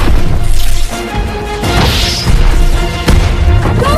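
A power plant explodes: a loud, sustained crash and blast with debris-like smashing and a sharp bang near the end, dense and continuous throughout.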